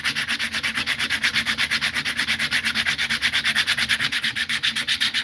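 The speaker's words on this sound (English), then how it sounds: "See if we can sand that little bit out." Hand sanding of a small wooden ring made from a yard branch: a steady, rhythmic back-and-forth rasp of close abrasive strokes, about five per second, continuing without talk.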